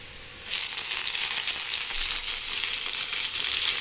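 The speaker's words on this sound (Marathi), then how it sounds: "आता आपण तेलात छानपैकी कांदा परतून घेऊया. आता आपण टोमॅटो टाकूया." Onion and tomato sauté in oil in a pan, starting with a sudden loud sizzle that stays bright and steady for several seconds, close up and with no voice.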